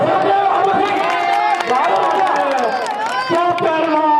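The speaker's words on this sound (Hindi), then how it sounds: "बैंक के नाम की जोरदार तालियों से स्वागत करें" A crowd at a village wrestling dangal in Rampur claps to welcome the wrestlers, with cheering, chatter and an announcer's voice carried over the loud, continuous crowd noise.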